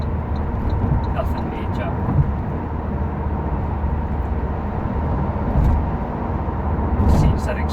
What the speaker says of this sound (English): There's a little bit of wind noise over the mirrors and around the front pillar